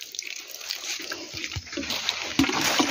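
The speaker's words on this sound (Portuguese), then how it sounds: "Vamos regar ele aqui." Water pours steadily onto garden plants and soil, a papaya tree among them, a close continuous splashing stream with a few brief thumps and knocks layered over it.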